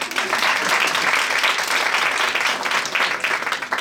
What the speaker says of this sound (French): Oh, bravo, Violette, on peut l'applaudir.